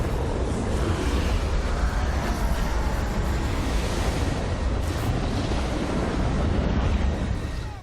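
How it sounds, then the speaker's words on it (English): In a movie scene, a rogue wave and heavy ocean surf make a loud, continuous crashing roar with a wind-like rush throughout, steady and close, fading only at the very end. "This rogue wave too looks a little bit bigger than even the most extreme rogue waves can be."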